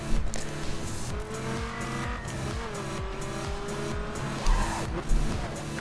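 Racing car engine in The Crew video game drones steadily with tire squeal and skidding, then a couple of sharp thumps near the end as the car crashes and bounces off.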